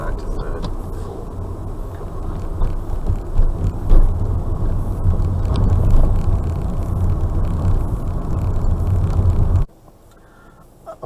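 A car drives along a rural road into a village with a low steady engine and road rumble that swells and eases through gear changes, then drops away suddenly near the end.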